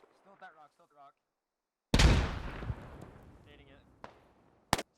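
Grenade explosion in a multiplayer video game: a single loud, close blast with a long rumbling decay, preceded by a short burst of speech and followed by a sharp crack near the end.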